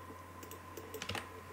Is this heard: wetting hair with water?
no